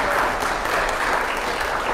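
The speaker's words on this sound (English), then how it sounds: "I just want you to know that applause is for you and not for me" A congregation at a Sunday worship service breaks into warm, sustained applause, a thick, even wash of clapping hands that holds steady and fairly loud from start to finish.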